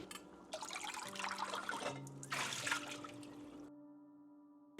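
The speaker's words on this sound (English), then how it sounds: "I'm gonna use a colander to help drain off all of the water in this rice." Water gushes and splashes out of rice draining through a colander, loud and close for a few seconds, then drops away to a faint trickle and near silence.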